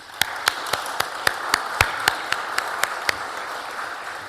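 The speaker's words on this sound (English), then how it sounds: "I think we do need to have a round of applause for them" One person claps near the recording in a United Church congregation, a loud, steady beat of about a dozen sharp, evenly spaced claps over a quieter room.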